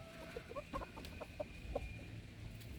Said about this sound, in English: he's a speckled Sussex